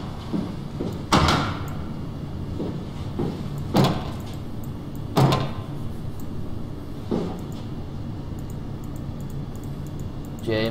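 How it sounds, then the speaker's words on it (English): A door opens in the survival horror game SOMA, giving several sharp mechanical thuds and sliding clanks spaced a few seconds apart over a steady low ambient hum. "open the door like a boss"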